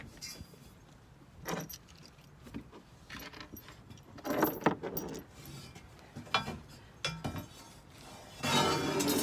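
Small hardware clinks and jingles as a 3/8-inch bolt, a handful of washers, a lock washer and a wing nut are handled, several sharp metallic bursts spread across quiet stretches while fitting a DIY awning on a 2015 Ford Transit medium-roof van.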